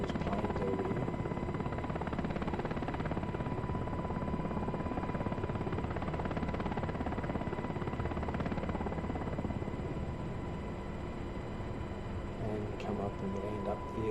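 UH-60 Black Hawk helicopter cruising in transitional flight over a runway near parked jets, a steady loud rotor and turbine drone heard from the cabin, with a voice talking over it throughout.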